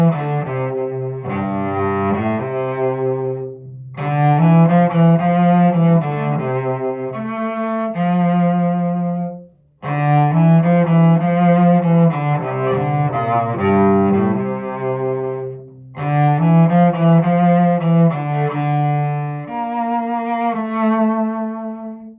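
A cello plays Dvorak's Humoresque as a romantic melody, its tone shaded by wide, fast vibrato; the phrases sound loud and close, flowing in long sustained lines with short breaths between them and no talking.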